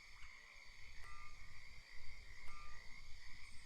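Frogs croak in a warm Southern night ambience, a steady chorus of shrill repeated calls with a few sharper clicks, moderately distant and alone without voices.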